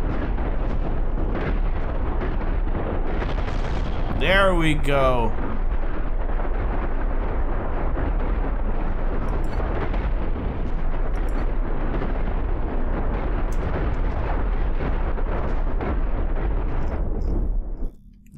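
Spaceships blow up in a space combat game, Cosmoteer, as a dense continuous roar of overlapping explosions and booms, loud and close for the whole stretch with a brief descending tonal sweep, before cutting out abruptly; someone speaks briefly.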